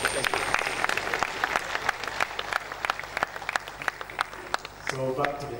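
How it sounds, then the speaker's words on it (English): Audience at a University of Ilorin programme applauding a lecturer: dense, sustained clapping from a crowd, steady and fairly loud, with a few quieter stray claps toward the end. "Please give the member lecturer a round of applause."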